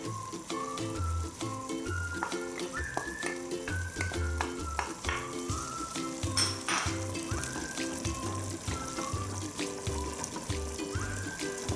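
Tomato sauce hits a hot pan and sizzles steadily, with stirring and a continuous frying hiss layered over a rhythmic low background beat, the sizzle holding close and fairly loud throughout without speech.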